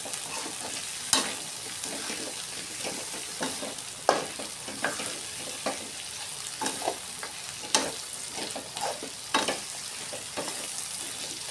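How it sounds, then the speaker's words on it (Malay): Cashew chicken with vegetables and bird's eye chillies sizzles steadily in a pan while a spatula stirs it, scraping and clacking against the metal in irregular strokes over the constant frying hiss. "Jadi saya akan tambah sayur tadi ya, dengan cili padi. Dan kita akan kacau."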